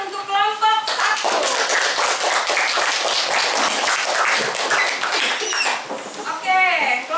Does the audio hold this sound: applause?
yes